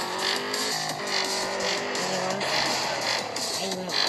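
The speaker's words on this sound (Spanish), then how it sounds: "Este coche va demasiado rápido." Car engine in the Extreme Car Driving Simulator 2 video game: a steady synthetic engine drone with rising and falling rev tones, continuous and loud under a dense mix of game sound.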